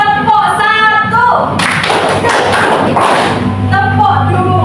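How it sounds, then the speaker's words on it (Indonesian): A classroom group claps a "clap one" pattern in unison, a dense burst of sharp hand claps between spoken instructions from a teacher, loud and close. "Tepuk 1,"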